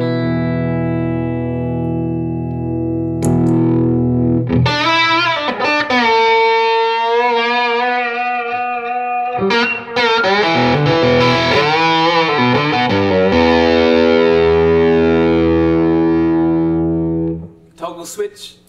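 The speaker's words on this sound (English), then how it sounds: "I can control how much overdrive is coming out of the amp" A Les Paul played through an overdriven Sir Badger 35 amp with a bit of delay and reverb: loud sustained distorted chords and single-note lines ringing out with echo tails, a short pause near the middle, fading at the end.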